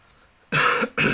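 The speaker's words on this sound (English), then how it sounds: "Sorry I'm coughing so much." A person gives two harsh, close coughs in quick succession after a brief quiet moment, the first longer and the second short and abrupt.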